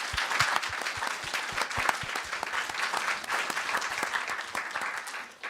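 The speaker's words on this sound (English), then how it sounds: "So let's give them all a round of applause." A conference audience at a Turing Lecture bursts into sustained applause, dense overlapping claps filling the room at steady volume before tapering slightly at the end, with no speech over it.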